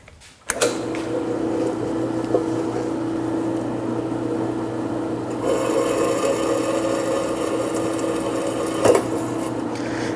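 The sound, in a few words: drilling screw holes for a power supply enclosure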